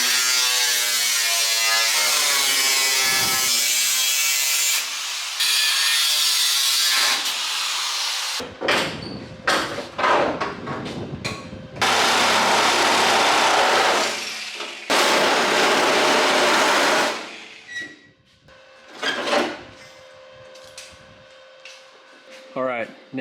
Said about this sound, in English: let's get this body panel cut off.